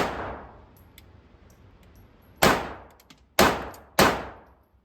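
A Kel-Tec P-32 pocket pistol fires at an outdoor range. One loud report fades into a long decaying echo, then three more sharp shots follow in quick succession, each trailing off.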